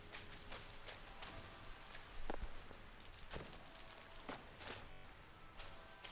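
Toxic rain in Sky: Children of the Light, a steady patter of raindrops falling on surfaces, with a few louder, sharper drops standing out against the constant wash.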